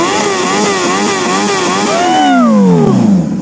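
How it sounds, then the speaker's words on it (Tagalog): A Honda CB650R motorcycle fitted with a full exhaust system revs loudly up close, blipping the throttle in quick repeated surges before one longer rev that winds down into idle. "Parinig naman kami ng motor mo,"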